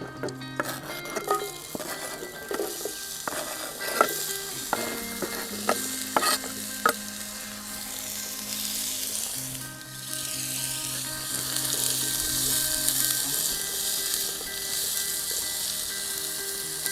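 Potatoes fry slowly in ghee in a camp pan over the heat, with a steady soft sizzle and repeated stirring scrapes and clinks early on that give way to a continuous hiss.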